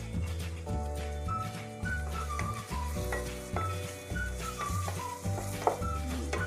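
Chicken pasta in tomato sauce stirred in a pan, with soft scraping and a gentle sizzle running steadily beneath louder background music.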